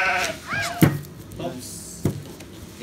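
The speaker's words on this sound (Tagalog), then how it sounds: "Tupa daw to. Tupa." Sheep bleat twice at close range on a farm during feeding, each call short and wavering, with people talking in Filipino around them.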